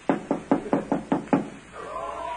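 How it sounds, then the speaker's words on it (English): Someone knocks on a door in an old-time radio comedy drama: six evenly spaced, fairly loud raps in quick succession, followed by a brief quiet tail. "Shall we knock?"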